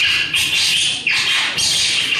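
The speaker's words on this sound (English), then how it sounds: "Early morning bird chirping." Early morning birds chirp and squawk in short bright bursts, several calls overlapping close by with brief gaps between them.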